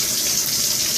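Water gushes continuously and loudly from a plumbing fixture that will not shut off in a building, a steady broadband rush with no pauses and no voices.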